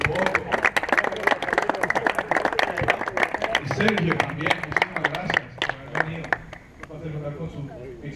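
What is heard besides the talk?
round of applause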